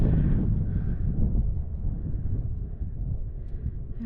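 Wind buffeting the microphone on a hilltop hiking trail a few hundred feet above Albuquerque, New Mexico: a steady low rumble and roar that carries throughout, moderately loud with slight gusty swells and no voices.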